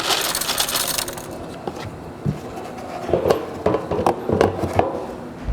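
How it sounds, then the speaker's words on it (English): Screws loaded by hand into the hopper of a 990-FX screw-feeder: a rattling cascade of small metal parts clinking and tumbling against metal, loud and close, in irregular bursts with no talking. "We'll pull up the flap and simply just load the hoppers in while it's in the downward position."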